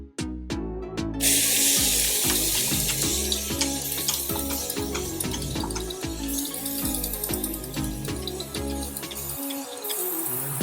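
Water is sprayed onto hair to drench it in a rapid run of sharp, hissing spritzes, loud and close. The spray keeps going almost without a break for about nine seconds before it stops.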